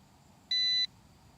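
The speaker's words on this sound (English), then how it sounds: "We got the beep on the transmitter." One clear electronic beep from a Yu Xiang F11S Apache RC helicopter transmitter, steady and high-pitched, lasting about a third of a second over a quiet background hiss.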